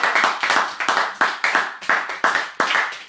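A church congregation clapping together in a steady rhythmic beat, close and lively, the claps falling roughly every third of a second without pause and without talk over them.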